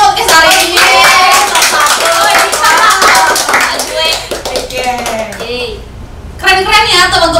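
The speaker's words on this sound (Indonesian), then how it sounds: "tepuk tangan dong podcast hari ini." A small group claps hands in a podcast studio, quick close claps mixed with lively cheering voices, then a brief lull before the clapping and chatter pick up again.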